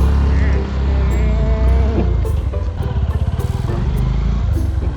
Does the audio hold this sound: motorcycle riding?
yes